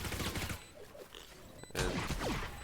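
Gunshots in a competitive Valorant match on Ascent or Lotus, with a burst of fire early on, a quieter lull, then a louder volley near the end.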